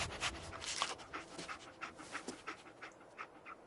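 Dogmeat, the dog companion in Fallout 4, pants steadily in quick rhythmic breaths, fairly close and moderately loud, with faint game ambience beneath and no talk.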